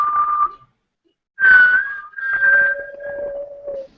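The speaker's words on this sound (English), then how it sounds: "We all whistle." Several people whistle sustained notes to steer and fire in a game, with clear tonal pitches that glide and hold: a short tone, a pause, then overlapping whistles at two different pitches, fairly loud and close, with no talking.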